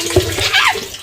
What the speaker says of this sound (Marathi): आम्ही दोघं पाणी भरतोय गाई. बघा कसा पाणी भरतोय.